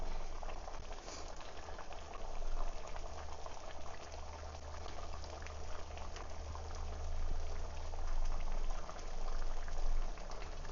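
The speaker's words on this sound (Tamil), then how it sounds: "குழம்பு வந்து நல்லா கொதிச்சிச்சு." Brinjal sambar simmering in a pot on a stove, cooked alongside pepper pongal: a steady, dense bubbling and hiss with a low rumble underneath that continues without a break.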